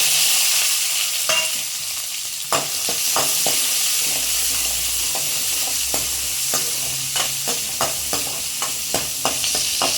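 Small shallots drop into hot oil where mustard seeds, fenugreek and pepper have already spluttered, for an okra tamarind kuzhambu. A steady close sizzle runs throughout, broken by sharp spatula scrapes and clinks against the pan.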